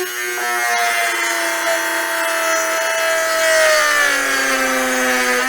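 A Swiss knife saw blade cuts through classical guitar wood in a steady, close rasping stroke with a continuous gritty scrape and no pauses.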